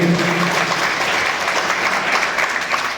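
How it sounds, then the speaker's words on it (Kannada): An audience at a charity event for disabled people, where free wheelchairs are handed out, breaks into a burst of loud, dense clapping that carries evenly throughout, close and without talk. "ಅವರಿಗೆ ನಿಮ್ಮೆಲ್ಲರ ಪರವಾಗಿ ಒಂದು ಜೋರಾದ ಚಪ್ಪಾಳೆ ಬರಲಿ"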